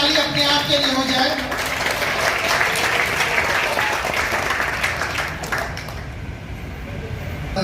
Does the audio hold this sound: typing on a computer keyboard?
no